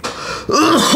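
A rough throat clearing from someone with a cough, one short gravelly rasp followed by a louder, harsher voiced clearing, close and alone.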